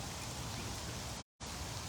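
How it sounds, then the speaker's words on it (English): Steady rain falls outdoors around an animal enclosure, a dense even hiss that continues throughout except for a brief cut to silence near the middle, with no voices. "It's raining."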